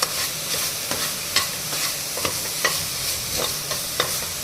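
Chopped bottle gourd fries over a high flame in a pan, giving a steady, dense sizzle with regular stirring scrapes and clicks as it cooks off its water, close and continuous with no talk.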